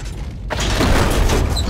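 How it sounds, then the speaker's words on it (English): A gas station blows up in the video game Gears of War, a loud broadband burst hitting after a brief quiet lead-in and roaring on with rumbling debris for over a second. "I'll stay with the exploding gas station."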